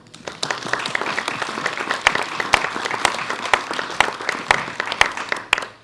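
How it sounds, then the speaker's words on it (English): Guests at a YMCA celebration event give a round of applause, a sparse, uneven patter of individual claps at moderate volume that thins out at the end. "give yourselves and one another a round of applause"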